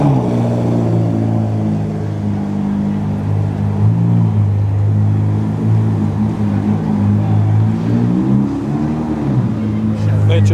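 A yellow sports car pulls away with a deep, steady engine rumble that stays loud and close, its pitch rising and falling slightly as it moves off.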